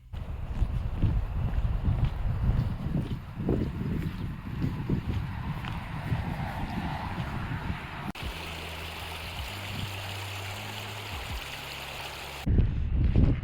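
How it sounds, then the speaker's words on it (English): Gusty outdoor wind on a chilly January day buffets the microphone with low rumbling thumps, close and loud, easing into a softer hiss before a brief humming tone and another gust. "It's very windy out today, I'm sure you can tell."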